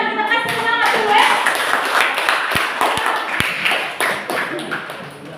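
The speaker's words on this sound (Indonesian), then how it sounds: "Ya, tepuk tangan, kita kasih semangat dulu ya." Group of people clapping hands together in a classroom, a steady patter of claps over voices and some talk.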